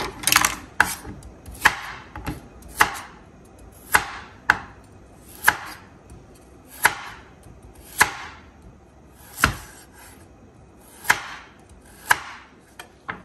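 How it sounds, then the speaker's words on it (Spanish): Knife chopping peeled carrots on a cutting board for a seafood soup, a steady series of sharp, close cuts coming roughly once or twice a second, each a crisp knock, with no talking. "me pelo una para que miren cómo lo voy a picar"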